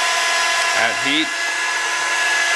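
A heat gun blows on the corner of a cracked iPad Air glass during a screen repair, making a loud, steady hiss of airflow throughout, with a brief voice sound partway through.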